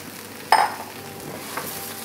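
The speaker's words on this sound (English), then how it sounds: "once the onion has softened but not started to colour too much, you can add the rice to the pan" Rice tipped into a pan with softened onion gives a sudden sizzling rush, then a low steady frying hiss with a faint stir scrape, no voices.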